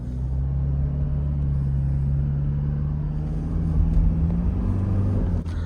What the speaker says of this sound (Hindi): अब देखो जैसे कि मैं इस भाई को ओवरटेक करूँगा तो यहाँ पे